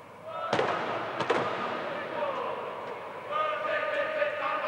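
Wheelchair rugby players at a large international games opening bang the sides of their wheels, a few loud booming drum-like hits over a roaring stadium crowd.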